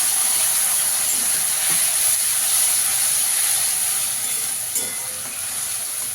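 Ground coriander, green chilli, garlic, ginger and tomato paste frying with onions, a loud, dense, continuous sizzle and hiss that holds steady throughout, with faint stirring underneath and no talking.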